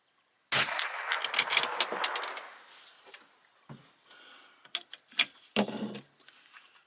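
A Bergara B14R .22LR rifle fires Eley Biathlon ammunition at a 50-yard range: one sharp crack, followed by quieter mechanical clicks and bolt handling.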